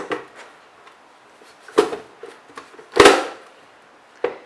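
A Nicer Dicer multipurpose vegetable chopper works through an onion: a few sharp, close clacks and snaps of plastic and blade, spaced irregularly with quiet gaps between.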